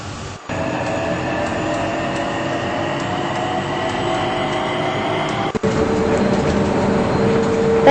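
An airport transit train hums steadily while running, a close, constant electric whine and rumble with a brief jolt near the end and no talking.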